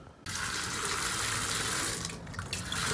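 Water pours steadily into a small batch of concrete mix for homemade dumbbells, a continuous splashing rush that starts abruptly and runs with no talk, dipping briefly near the end.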